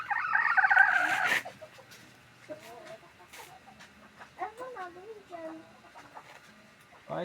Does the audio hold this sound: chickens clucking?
yes